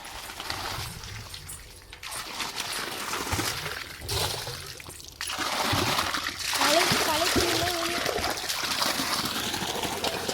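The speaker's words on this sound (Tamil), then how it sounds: "நம்ம போர் வந்து போட்டாச்சு தண்ணி விடிக்குது" Water gushing and splashing from a newly drilled village borewell, a continuous loud spray with people talking close by over it.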